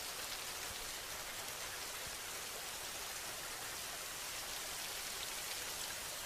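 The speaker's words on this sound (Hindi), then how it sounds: "अगले दिन जंगल में तेज बारिशें शुरू हो जाती हैं।" Heavy rain pours steadily through a forest, a dense unbroken hiss of drops on leaves and ground, fairly close and even throughout, with no voices.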